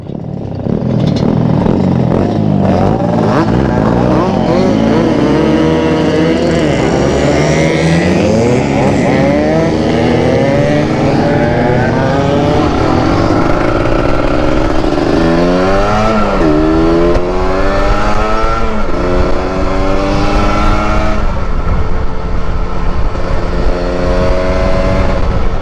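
A Kawasaki Ninja motorcycle accelerates hard along a road on a long touring ride, its engine loud and close as it climbs through the gears with repeated rising pitch sweeps and shifts, and steady wind roar throughout.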